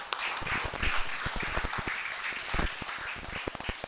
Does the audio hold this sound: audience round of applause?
yes